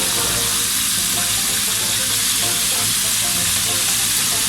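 Food fries in hot oil in a long-used old wok, giving a loud, continuous, even sizzle close up with no one talking.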